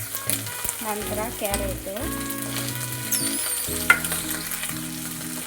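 Peas and vegetables for veg fried rice sizzling and frying in a hot pan, a steady crackle with occasional stirring clinks, heard under a woman's speech and background music.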